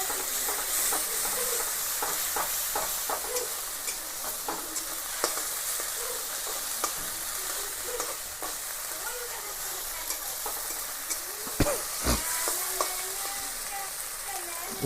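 Garlic and onion fry in hot oil in a pan for a Bengali katla kalia, a steady close sizzle with occasional stirring scrapes and clinks throughout.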